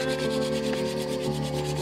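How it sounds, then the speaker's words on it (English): A wooden friction fire hand drill spun between the palms at a bushcraft camp gives a steady, continuous rubbing and grinding, loud and close, with no talk. "he's practicing the hand drill here at camp"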